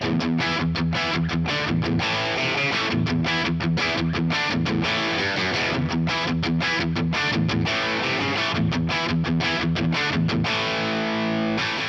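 A heavily distorted electric guitar through a Hotone Ampero II Stage Marshall amp model with large plate reverb chugs in a rapid, choppy rhythm with a roomy reverb tail, loud and continuous, with no voices.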